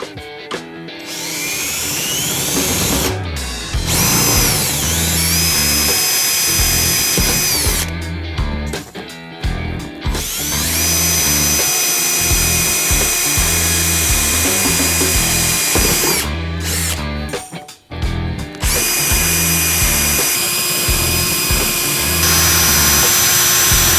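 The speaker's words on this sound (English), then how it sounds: "Best case scenario to cut this is a jigsaw. Make sure you have a fine-tooth blade in it." A jigsaw fitted with a fine-tooth blade cutting through a speaker lid during a Rockford Fosgate speaker install on a Milwaukee 8 Road Glide: loud buzzing motor bursts with several short stops and restarts, no talk.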